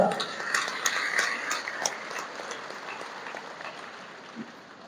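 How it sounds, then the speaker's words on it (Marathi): Applause from an audience welcoming a guest at a community gathering of the barber (Nabhik) community in Pachora, a steady burst of clapping that fades out over several seconds. "सर्वांनी वरती हात करून टाळ्या वाजवून स्वागत करा"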